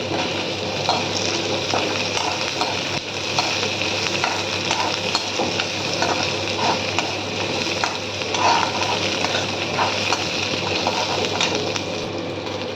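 Garlic and dried red chillies fry in hot oil for pirandai chutney, giving a steady close sizzle with occasional stirring scrapes throughout.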